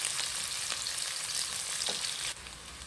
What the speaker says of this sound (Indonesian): Tumis 2 bawang bersamaan ya.